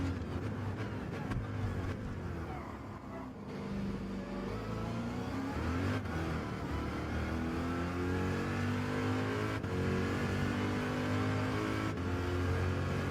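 A race car engine in Gran Turismo 7 revs high and holds, a continuous droning whine that rises and falls with gear changes during a sim race, moderately loud and steady throughout.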